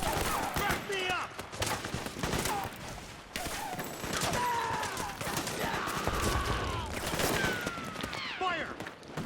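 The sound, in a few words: gunfire in Metal Gear Solid 4 video game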